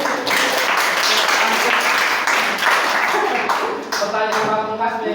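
A classroom of pupils claps together for a correct answer, a dense, loud, continuous burst that thins slightly near the end.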